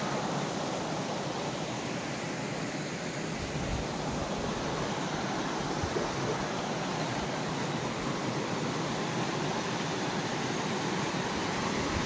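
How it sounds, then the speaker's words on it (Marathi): A constant, dense roar of rushing water from a waterfall fills the whole stretch, steady and loud without pauses or voices. "मोठा मोठाले धबधबे आपण पाहू शकता पुढे."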